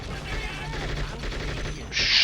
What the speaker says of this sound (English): Now we're going to get Foley to use his AK.